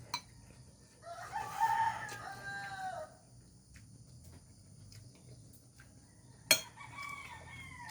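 Chickens on a farm waiting to be fed give a rooster's crow and clucking calls, moderately near over a quiet rural background with crickets, followed by a sharp knock and a few more calls.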